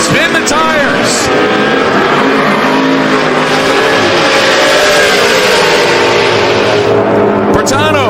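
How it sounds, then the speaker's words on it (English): Drag race cars launching at a Sick Week 2024 strip, a loud continuous roar of engines with tire spin, while an announcer talks over the noise throughout. "And both of them spin the tires."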